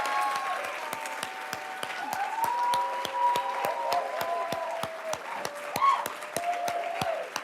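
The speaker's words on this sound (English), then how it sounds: "So please give each other a round of applause" Sustained applause fills a room at a college awards ceremony, with a few distinct sharp claps standing out in an even rhythm and some cheering voices over the crowd.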